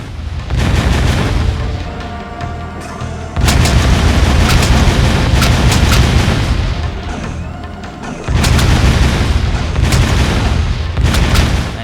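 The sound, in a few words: destroying metalhead eggs with blasts in video game Jak II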